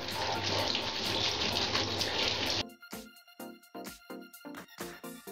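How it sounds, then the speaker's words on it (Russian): Keyboard parts are washed under a running tap, a steady rush of water for a few seconds, then the flow stops and sharp, irregular brush scrubs and clatters follow close up. "Под водой щетками вычищаем клавиатуру."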